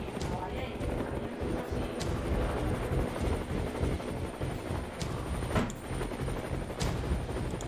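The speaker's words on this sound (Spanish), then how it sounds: "Y el helicóptero." Helicopter in a shooter video game about the operation against Osama Bin Laden, heard as a steady chopping rotor drone mixed with rapid gunfire bursts, while someone talks excitedly over the noise.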